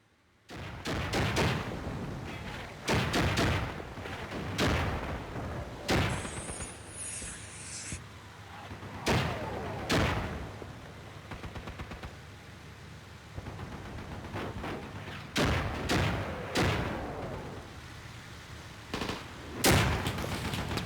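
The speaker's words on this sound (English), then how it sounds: "look at that Corsair dropping those bombs on them" Corsair aircraft drop bombs in the Cold War tactical game Armored Brigade II, giving a series of sharp, heavy explosions and bursts of gunfire at irregular intervals, loud and close, with no voices.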